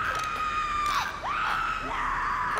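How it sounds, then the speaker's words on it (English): Screams from The Last of Us, video game, a few rising and falling shrieks over a steady tonal game background, moderately loud with no talk. "Oh, the screaming."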